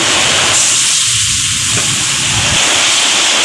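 Chili and turmeric powder sizzle loudly in a hot pan as a splash of water is added, making an intense, steady, close hiss that barely changes throughout.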